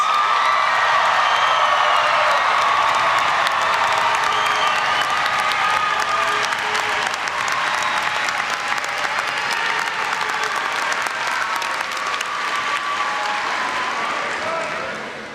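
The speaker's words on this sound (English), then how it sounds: "let's give our most recent graduates another round of applause." Sustained applause from a large commencement crowd honoring new graduates, dense and steady throughout with scattered cheers and whoops, slowly thinning toward the end.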